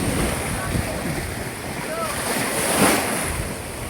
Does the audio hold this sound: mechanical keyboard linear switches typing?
no